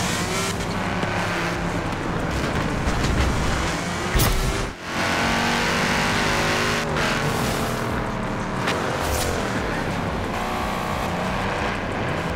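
A Shelby car's engine revs and roars loudly and continuously in the racing game Forza Horizon 4, rising and falling with gear changes, with a brief drop partway through.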